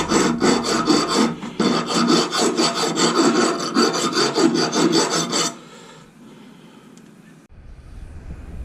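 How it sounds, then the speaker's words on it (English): A hand file rasps inside a hole in metal with fast, even back-and-forth strokes for about five seconds, loud and close, and then stops, leaving quiet room noise. "I'm going to file inside this hole"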